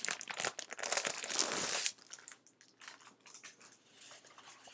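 A sheet of night-blue paper with gold reflections is handled, giving loud, close crinkling and rustling for about two seconds before softer scattered rustles, with no talking.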